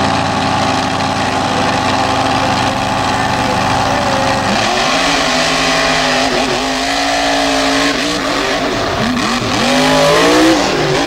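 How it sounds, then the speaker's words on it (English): Mega trucks race side by side in a bracket final at a motorsport event, heavy engines roaring loudly and continuously, with revving swells and shifting pitch near the end. "two different generation machines of the Anderson family getting ready to do battle in the final round of our mega truck bracket"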